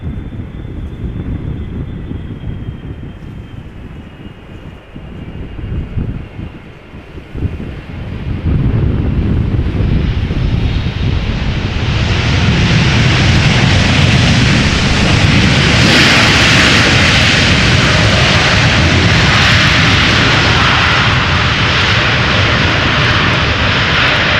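An airliner arrives in crosswind at Amsterdam Schiphol's Polderbaan runway. Wind buffets the microphone at first, then jet engine roar swells and holds loud and steady as the aircraft passes close.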